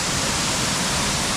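A waterfall in Gangtok, Sikkim, pours down as a dense, steady rush of water that fills the whole sound without pause, close and loud.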